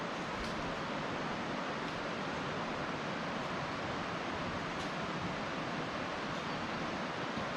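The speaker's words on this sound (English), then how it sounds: "You guys hear that water? Yeah. That's our waterfall we're chasing." Distant Grotto Falls in the Great Smoky Mountains gives a constant, even broadband rush of falling water, steady and unbroken with no voices.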